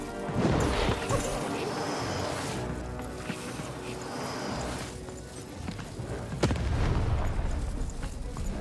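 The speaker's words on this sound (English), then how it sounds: "Shoot the button to fire the cannon." Cannons fire in the video game Lost in Random, heavy booms and crashes landing amid game effects and a speaking voice, with a few loud impacts spread across several seconds.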